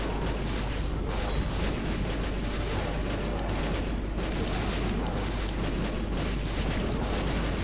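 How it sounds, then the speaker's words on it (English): Explosions in the video game The Binding of Isaac pile up into a continuous, loud, distorted roar of booming blasts with no clear gaps, filling the whole stretch. "I'm sorry if these explosion noises are a little bit much for everybody, by the way."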